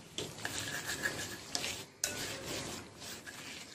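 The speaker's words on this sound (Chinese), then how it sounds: "加一勺白糖继续搅拌" Purple and white sweet potato mash with a spoonful of sugar is stirred in a bowl, making close, soft scraping and squelching strokes in an uneven rhythm, with a few sharper knocks.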